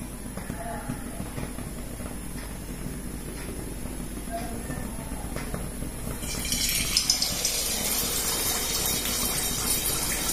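Neyyappam batter ladled into hot oil, a soft bubbling fry at first that bursts into a loud, hissing sizzle partway through and holds steady, close by, with someone talking quietly under it.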